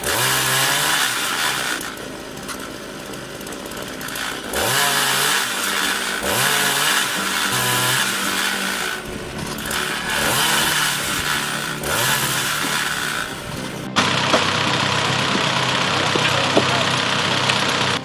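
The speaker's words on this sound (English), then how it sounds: "A DIY saw stand that turns raw wood into ready-to-burn logs in seconds." A gas-powered homemade saw stand cuts raw wood into meter-long firewood logs, its engine droning loudly and steadily throughout, with the pitch dipping in repeated bogs as the blade bites, and faint voices underneath.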